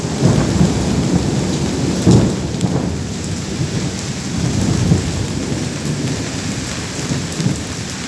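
Heavy rain pours steadily in a Porto Alegre storm while deep rumbling thunder booms several times, the loudest crack landing about two seconds in.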